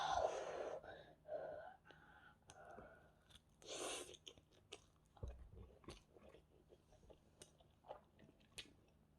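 Someone eating a mouthful of Jjapaghetti black-bean noodles with a spoon, soft close chewing and slurping bites with breaths in between, a few short bursts of sound scattered through.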